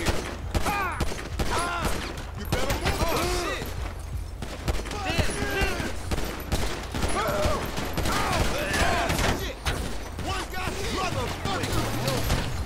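Gunshots crackle in a dense, continuous volley during a solo mission in GTA 5 Online, with sharp reports scattered under people talking throughout.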